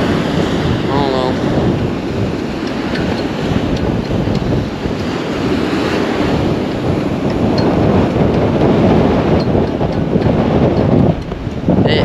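Loud, gusty wind buffets the microphone nonstop, mixed with a roar of surf, and a voice briefly speaks beneath the rumble.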